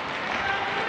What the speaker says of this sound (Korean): 관중석에서 아, 박수가 나오고 나오죠